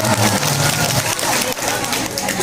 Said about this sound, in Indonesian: Tepuk tangan buat Bu Haji Hapsoh dan Bu Haji Epong.